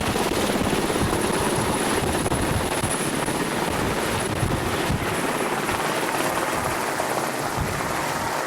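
A helicopter bringing gorillas in to Kashugo, its rotor thudding loudly and steadily throughout, close and unbroken with no voices over it.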